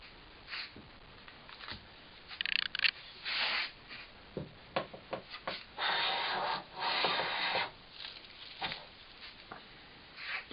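An Axminster Rider 4 1/2 smoothing plane takes fine shavings off pine, giving repeated short rasping swishes of varying length, some drawn-out, close and fairly crisp with small pauses between strokes.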